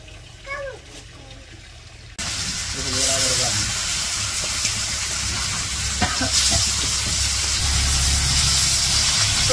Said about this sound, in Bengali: মাছগুলো ভাইজা নিতেছে